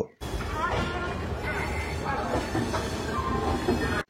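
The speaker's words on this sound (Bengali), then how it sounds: "নির্ধারিত সময়ে আমাদের ট্রেন হাওড়া স্টেশন ছাড়ল" A train departing Howrah station, rolling along with a continuous low rumble and rattle of carriages, steady and fairly close, with faint chatter mixed in.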